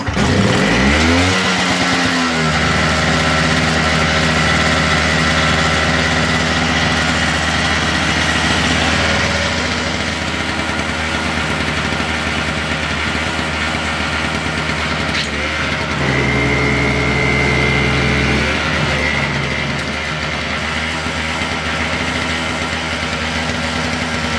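A Toro Power Clear snow blower engine idles slightly fast, a loud, steady small-engine drone held close for the whole stretch, with a brief change in pitch early on and again midway.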